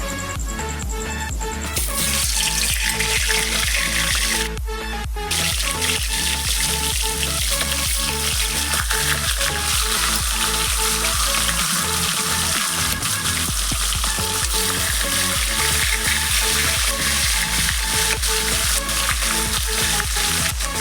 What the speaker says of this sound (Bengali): আমি এবার এই মাছের মাথাটা ভেজে নিচ্ছি